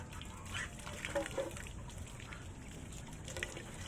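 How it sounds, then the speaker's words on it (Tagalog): Water trickling and splashing as it is poured out for ducks kept near a goose, a faint uneven liquid dribble with soft background noise. "Ako'y maglalagay ng tubig mga kaubayan"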